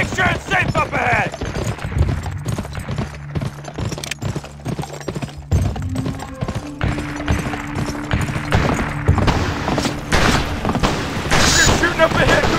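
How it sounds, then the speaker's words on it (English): Gunfire in the western video game Gun, a steady flurry of shots and booms over clip-clopping horse hooves, with voices shouting over the din. "They're shooting up ahead!"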